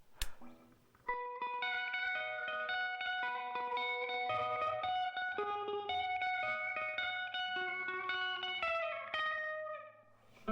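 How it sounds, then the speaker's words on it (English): Electric guitar through an Ampeg amplifier during a band recording session plays a continuous chordal and melodic passage with a chorus-like, slightly distorted tone and roomy reverb, moderately loud and steady for about ten seconds before stopping. "Eric, could you play a little more guitar for me"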